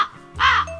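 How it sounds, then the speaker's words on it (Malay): A bird call sound effect played from a V8 soundcard gives a single harsh, crow-like caw, loud and close, lasting under a second. "Yang ni dia macam bunyi burung lah."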